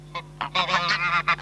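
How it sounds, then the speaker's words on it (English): Geese honk in rural Fermanagh farmland, Ireland, several loud nasal calls in quick irregular bursts, close by and clear over a quiet background. "Fine flocks of geese and a pet of a gander feeding out of a pot are rare sights nowadays"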